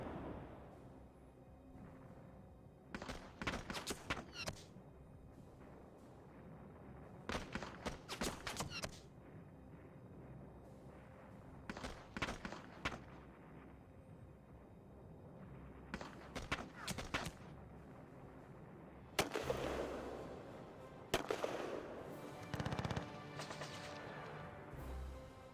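Armored vehicle gunfire in a World War II game assault on Kyushu comes as repeated bursts of sharp, distant-sounding shots in clusters over a low battlefield rumble, with a louder crash near the end.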